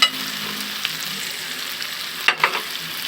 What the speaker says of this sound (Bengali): এবার দিয়ে দিব পোলাওয়ের চাল আমি চাল ধুয়ে ঝরিয়ে নিয়েছিলাম